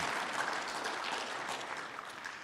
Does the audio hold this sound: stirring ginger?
no